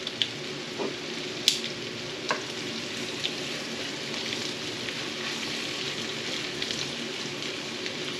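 Garlic sizzling in butter in a pan, a steady soft frying crackle with a few stir scrapes, no talking.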